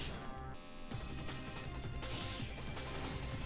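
Glass smashing and scattering in the Sonic the Hedgehog game on Xbox 360, a bright crash at the start, then a dense, steady clatter of shards over the game's music.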